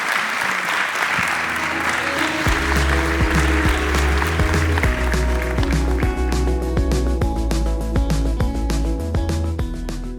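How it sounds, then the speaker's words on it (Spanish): Loud, dense applause from a theatre audience at a spectator-school event, sustained for about ten seconds, with a few sharp individual claps and faint voices mixed into the crowd. "Y despedir a Claudia con un fuerte aplauso."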